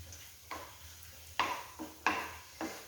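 Potato masala for mushroom cutlets is stirred in a pan, with a few soft scraping strokes of a spoon against the pan, quiet and close, over faint background hiss.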